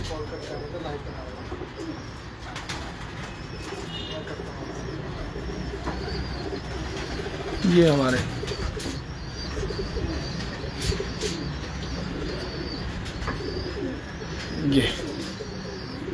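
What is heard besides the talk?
red-eyed loft pigeons cooing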